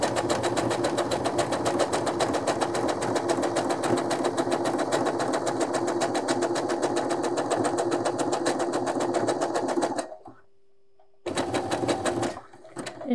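A sewing machine stitches two overlapped elastic bands together in a fast, even mechanical patter for about ten seconds, stops briefly, then runs again in a short burst.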